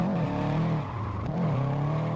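Race car drifting in the Assetto Corsa video game, a steady engine drone with tire squeal rising and falling through the slide, continuous and fairly close for the whole stretch.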